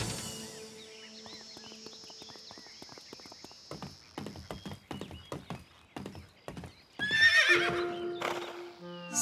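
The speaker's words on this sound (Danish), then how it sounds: "Se! Det er en hest." A horse standing on a house veranda whinnies, then its hooves clop in a run of irregular knocks on the boards, followed by another louder neigh, all fairly close with little else around.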